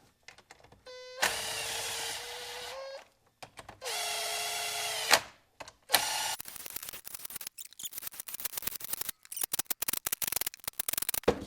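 Bolts being tightened on a Seadoo 951 DI engine during a rebuild: three sustained whirring motor runs, followed by a dense series of sharp ratcheting clicks, all close and fairly loud, with no talking.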